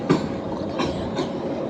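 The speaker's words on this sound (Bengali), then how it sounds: "ওই যে ট্রেনটা" A passing train in Trainz Simulator rolls by with steady rumbling and a few rhythmic wheel clacks, moderately loud and mechanical, with no talking over it.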